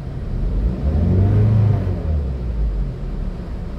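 An ex-taxi Limo car sits idling at about 290 km before its engine is revved: a steady low rumble climbs to a louder mid-pitched roar, then settles back toward idle, close and with no talk.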